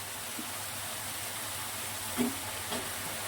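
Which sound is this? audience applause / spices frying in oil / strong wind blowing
spices frying in oil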